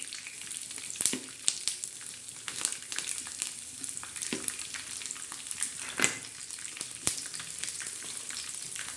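Peanuts frying on a tawa until reddish, a steady crackling sizzle with scattered sharp stirring scrapes and clicks over several seconds, no voices.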